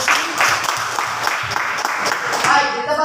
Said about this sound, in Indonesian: Mari kita tepuk tangan untuk Susi.